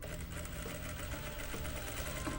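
A sewing machine stitches close to the folded edge of kimono fabric, its needle running in a fast, steady, continuous whir, near and alone.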